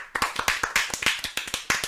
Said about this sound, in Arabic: صفقوا له مره ثانيه